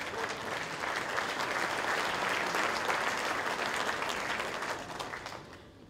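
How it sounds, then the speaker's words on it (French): A festival audience at an Italian film festival opening night applauds a local-born guest in a steady wash of clapping from many hands, swelling slightly then fading toward the end. "je crois qu'on peut l'applaudir."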